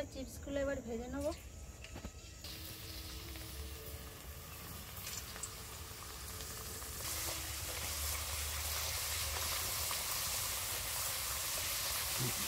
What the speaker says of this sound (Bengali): তেল গরম হয়ে গেছে, এবার আমি একটা একটা করে চিপসগুলো এবার ভেজে নেবো।